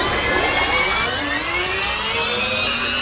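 A racing car engine screams at high revs, a loud, continuous whine with slowly rising tones that holds steady, with no talk over it.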